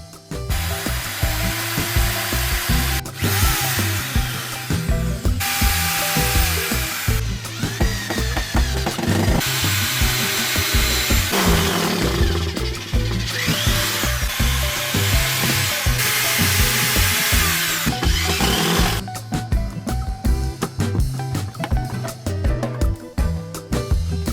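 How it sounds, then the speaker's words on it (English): A power tool runs loud and nearly continuously while a piece of wood is cut short and screwed in during cabin building, its whine and rattle pulsing with brief pauses. "chop it short and screw this in"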